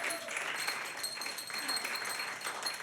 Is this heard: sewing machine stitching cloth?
no